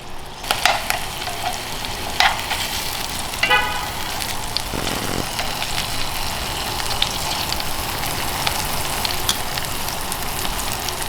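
Sandhill crane breast sears in a hot pan like a ribeye steak, a steady loud sizzle and crackle running throughout with a few sharper pops and scrapes, no voices.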